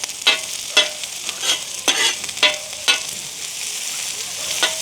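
Vegetables and chillies for kottu being stirred in a pan, a steady sizzle broken by repeated scraping strokes of the spatula in an irregular rhythm, close and clear.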